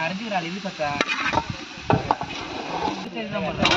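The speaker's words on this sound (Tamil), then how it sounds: "இஞ்சி பூண்டு பேஸ்ட், நாட்டு தக்காளி, கறியை போட்டுடலாம்." Duck curry cooking in village style with ginger-garlic paste and native tomatoes tipped into hot oil, a close bubbling sizzle broken by stirring knocks and scrapes, with nobody talking.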